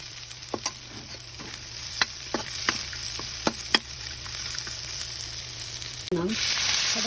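Kikiam fish balls fry in a small amount of oil in a pan, giving a quiet, steady sizzle broken by sharp scraping clicks from stirring. A louder burst of sizzling rises near the end.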